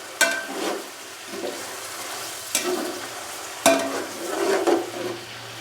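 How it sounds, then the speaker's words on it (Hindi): Chicken frying with ginger-garlic paste for a mixed vegetable pulao, giving a soft ongoing sizzle broken by three loud scraping stirs of a spoon against the pan, spaced a couple of seconds apart. No talk. "चिकन को हमने भून लिया है 3 से 4 मिनट के लिए"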